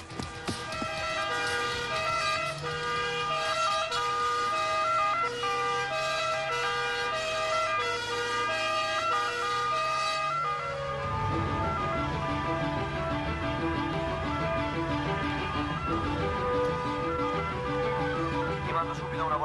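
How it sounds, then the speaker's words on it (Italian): An ambulance siren wails steadily in a repeating two-tone pattern, loud and close, over continuous layered sound as the vehicle comes nearer during a tense police rescue scene; voices speak at times underneath. "E l'ambulanza? Sta arrivando"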